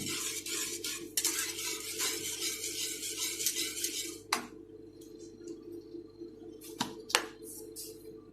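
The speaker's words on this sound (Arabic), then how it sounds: "وهعصق اللحمه انا" Minced meat sizzles and is stirred in a frying pan, a steady crackle with repeated utensil scrapes for about four seconds, then quieter with a few sharp clinks of the spoon against the pan.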